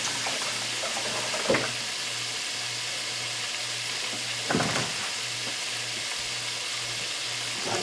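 Shrimp fry in hot oil for Essex-style fried shrimp, giving a steady dense sizzle with two brief louder bursts of crackle, heard close, under a faint low hum and with no talking.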